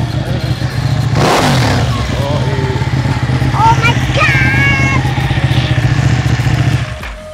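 A Ducati Panigale 1199 motorcycle engine runs at a steady, throbbing idle close by throughout, while a man briefly exclaims in amazement over it.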